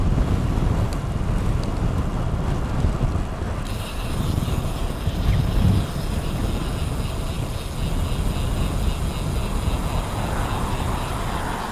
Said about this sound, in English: Fighting a little bit of a headwind here, but other than that, she's a beauty.